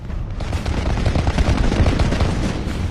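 Aircraft cannon gunfire from the 1982 Falklands War at sea, a loud dense burst of rapid rumbling reports lasting the whole moment, harsh and close.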